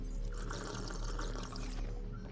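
Water pours steadily from a water-and-salt machine in the game Subnautica Below Zero, a continuous rushing, splashing stream heard close and alone for the whole stretch.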